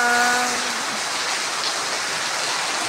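Rain patters steadily on a tin roof as a dense, even hiss with no distinct drops, beginning with a faint fading tonal trace.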